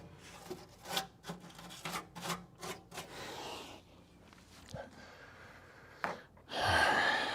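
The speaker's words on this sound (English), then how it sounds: "gonna use the wire brush on the inside to get at the threads, because they're turning, but the undercoating is getting stuck" A wire brush scrubs sticky undercoating off the threads of a turning bolt on a Dodge Coronet crew cab fender, giving a run of close, loud rhythmic rasping strokes, a pause of quieter scraping, then a final burst of harsh scrubbing.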